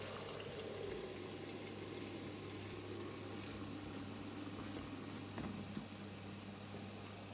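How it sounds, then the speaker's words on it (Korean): Two kinds of songpyeon rice cakes steam in a steamer lined with a damp cloth, giving a steady, even hiss and low bubbling hum that hardly changes, with no talk. "이렇게 2가지 송편을 이제 쪄볼게요"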